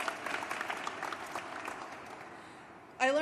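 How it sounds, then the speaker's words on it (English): A crowd at a San Francisco South Asian American Heritage Month celebration claps for the tour guides, dense applause mixed with cheering that fades toward the end before a voice cuts in. "Let's give them a round of applause."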